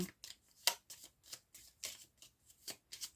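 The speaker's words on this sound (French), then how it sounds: "je vais tirer trois cartes" Tarot cards slid and drawn from a deck during a new-moon reading, giving a quiet run of brief papery flicks and swishes in an irregular rhythm, close up, with no voices.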